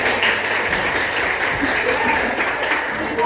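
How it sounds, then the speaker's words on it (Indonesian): Classroom applause in a school setting, a steady dense patter of hands clapping at moderate level for a few seconds, with some murmuring voices mixed in. "Tepuk tangan."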